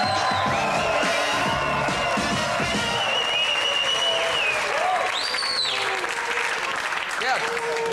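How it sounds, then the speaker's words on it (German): A German television talk-show studio audience claps loudly and continuously, with scattered cheers and whoops, while voices are heard over the applause. "Begrüßen Sie ihn mit dem Applaus,"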